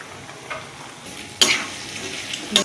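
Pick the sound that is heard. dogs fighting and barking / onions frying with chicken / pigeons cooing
onions frying with chicken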